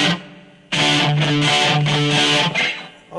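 Electric guitar played through a BOSS eBand JS-10 with reverb engaged, a run of distorted chords struck loud and close in a quick rhythm, the tail lingering softly after the last stroke.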